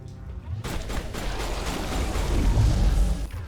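Pistol fire crackles through a Mass Effect firefight, the bursts of shots and booms blending into a dense, steady barrage that swells louder toward the end, with no talking.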